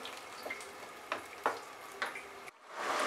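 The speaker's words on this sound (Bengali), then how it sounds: "হাই ফ্লেমেই এবার এটাকে আমি ফুটিয়ে নেব।" Veg Manchurian gravy boiling hard in a pan over a high flame, giving a steady bubbling hiss broken by sharp pops, with a louder rush of sizzle at the end.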